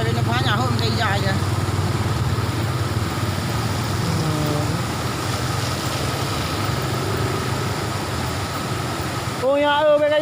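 Motorcycles ride back through flood water in North Aceh, with a continuous engine rumble and a rushing wash of water close by. A horn sounds briefly near the end and people talk faintly underneath.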